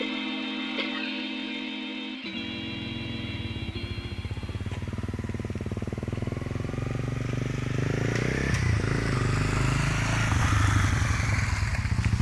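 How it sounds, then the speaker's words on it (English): A Honda CRF 250L motorcycle engine idles and revs steadily, close by, with a chugging rumble that grows slightly louder toward the end. "I have bought myself a motorcycle. This is a Honda CRF 250L."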